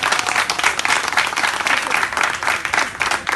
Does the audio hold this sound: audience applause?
yes